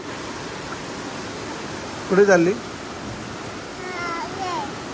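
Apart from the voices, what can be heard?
heavy rain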